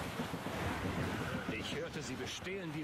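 Steady wind and rolling waves at sea in Assassin's Creed Rogue make a constant loud wash, while a voice speaks over it toward the end.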